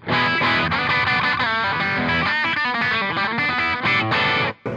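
Electric guitar played through a Pedaltank British Classic overdrive pedal with all knobs at their middle settings, into an amp, giving a thick, continuous distorted strummed tone, loud and close, cutting off briefly near the end.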